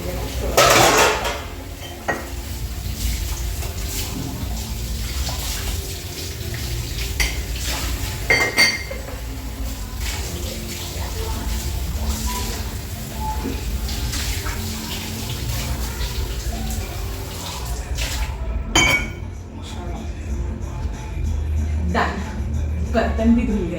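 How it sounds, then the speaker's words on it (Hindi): Dishes, pots and utensils being washed at a home kitchen sink: repeated clinks and clatters of metal and crockery over running water, with sharp knocks scattered throughout at close range and no talking. "बर्तन भी धुल गए।"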